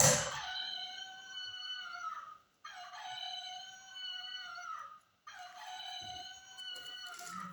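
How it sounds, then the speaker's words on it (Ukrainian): Three long, loud rooster crows follow one another with short pauses between them, each a drawn-out harmonic call. "І півник добре-добре голосно співає."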